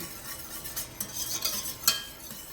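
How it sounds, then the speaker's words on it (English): Sauce whisked in a pan, quick rhythmic strokes with light metallic clicks against the pan over a soft sizzle, close and clear without talking. "And then we just want to whisk that in"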